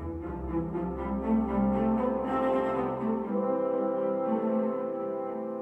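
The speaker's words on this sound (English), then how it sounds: "Now you can hear the cellos are there, and there's a sort of a rumbling in the background for the double basses." Cellos and double basses of an orchestra in a recording of Sibelius's Symphony No. 3 hold sustained, resonant low chords over a deep rumbling bass, swelling gently and then settling, with no voices.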